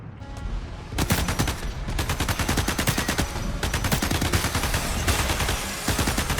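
Rapid automatic gunfire in Starship Troopers: Ultimate Bug War, loud sustained bursts of machine-gun fire that stop briefly and then resume in continuous volleys.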